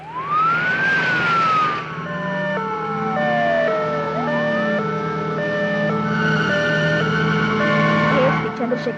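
An ambulance siren in a Telugu film scene sweeps up and down in loud, repeated wails, layered over sustained background tones with no speech.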